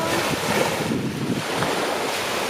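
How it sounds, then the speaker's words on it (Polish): Waves wash steadily against the shore of a lake, sounding much like the sea, with heavy wind buffeting the microphone in a continuous roar. "Fale też trochę jak nad morzem."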